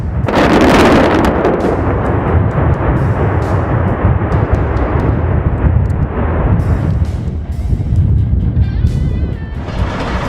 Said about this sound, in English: It wasn't just an explosion, it was a full-on industrial thunderstorm.